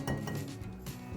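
Quiche egg mixture with ground pepper and salt being stirred in a bowl, giving a short run of light clinks and scrapes of a utensil against the dish, close and fairly quiet.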